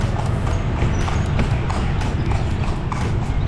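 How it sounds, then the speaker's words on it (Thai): Horse hooves clip-clop steadily beneath the rolling rumble of a horse-drawn carriage moving through Lampang at night, the sound close and continuous. "ฟังนั่งรถม้ากันนะ"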